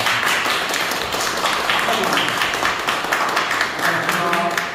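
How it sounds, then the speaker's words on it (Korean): Applause and clapping from a gallery audience, honoring an art association member at a painting group gathering, a dense steady patter of many hands filling the room with some voices mixed in. "유천 선생님 이제 박수."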